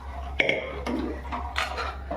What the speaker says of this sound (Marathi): त्याच कुकरमध्ये आपण पाणी टाकून कुकरला हिलवून हे पाणी याच्यात टाकायचं आहे